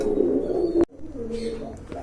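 Pigeons kept for sale, high-quality birds at a pigeon market, coo in low throaty tones before a brief break, then resume softly with a faint higher chirp near the end.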